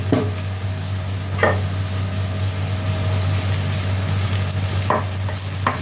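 Meat sautés in a pan for a Baguio beans dish, a steady close sizzle running throughout over a low hum, with a few brief clinks of a utensil against the pan.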